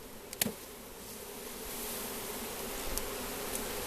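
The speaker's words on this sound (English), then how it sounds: "Now you notice the bees, they're not stinging me, and I'm only about 3 feet away." A docile swarm of honeybees with no hive drones in a dense continuous buzz a few feet away, steady and fairly faint, with a couple of small knocks early on.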